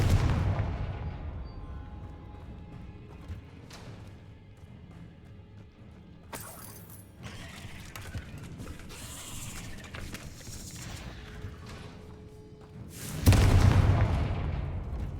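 Explosive Confringo spell blasts in the Hogwarts Legacy video game, a booming burst near the end over a busy game soundscape of mechanical clatter and lesser impacts.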